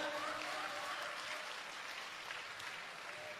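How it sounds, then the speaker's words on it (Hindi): Dense, steady applause from an audience at a spiritual gathering fills the whole moment, a continuous wash of clapping at moderate level with no voices standing out. "ताली बजाओ"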